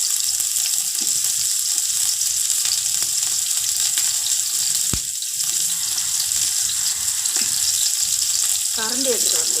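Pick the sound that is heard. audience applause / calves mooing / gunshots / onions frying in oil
onions frying in oil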